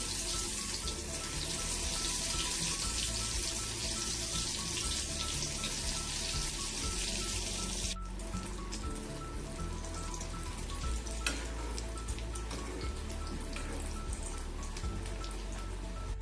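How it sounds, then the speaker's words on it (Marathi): Kothimbir vadi pieces fry in hot oil in a kadhai, a dense, even hiss of bubbling oil that continues steadily, with a brief change in texture partway through. "मी आता एक एक वडी तेलात सोडून घेते तळण्यासाठी"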